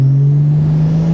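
A single-turbo 2JZ-swapped Mercedes 190E EVO II cruises on the street, its engine giving a steady, loud, smooth drone at near-constant revs.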